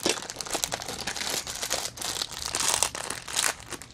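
Plastic packaging crinkles and crackles in bursts as a Funko Vinyl Soda figure is pulled from its box, with close, irregular rustling and no talking.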